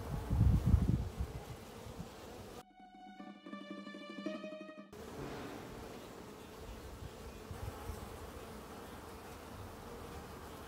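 A dense drone of Buckfast honeybees buzzes close by at a hive, steady and continuous, briefly broken by a clearer tonal hum in the middle.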